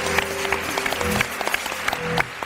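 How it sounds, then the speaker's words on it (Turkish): Studio audience of a Turkish TV talk show applauding, a dense burst of clapping with some tonal music underneath, steady and then easing off. "Büyük bir alkış, Çağırdığınız sevgili Dilara'ya."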